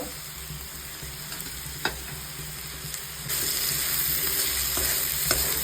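Onion and chopped chilies frying in oil in a pan for a Bengali-style chow mein, a close, steady sizzle with occasional stirring scrapes that grows louder and brighter midway.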